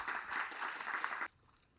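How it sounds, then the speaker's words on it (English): Audience applause for a forum panel at a session on hydrogen, a steady wash of many hands clapping that holds for over a second and then stops abruptly, leaving quiet room tone. "I just ask you for one last round of applause for our excellent panel"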